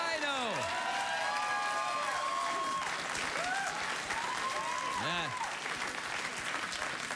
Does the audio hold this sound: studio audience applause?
yes